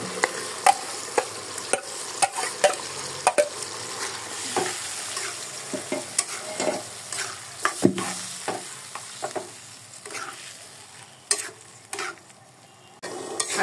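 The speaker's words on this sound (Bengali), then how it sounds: "আলুটা কিন্তু অনেকক্ষণ কষাতে হবে বন্ধুরা" New potatoes sautéing in oily fried spice paste, a steady close sizzle punctuated by repeated sharp scrapes and knocks of a spatula as they are stirred.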